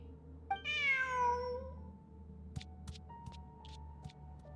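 A cat in the video game Genshin Impact gives one drawn-out, falling meow near the start, followed by a few faint clicks and a steady low hum with no talking.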